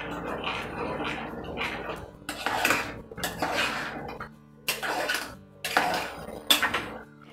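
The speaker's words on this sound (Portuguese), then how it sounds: "Vamos mexer, que agora ele vai ficar bem firme." A utensil stirs thickening tomato sauce in a pan for a sausage escondidinho, with repeated scraping clinks against the metal in irregular bursts, close and moderately loud.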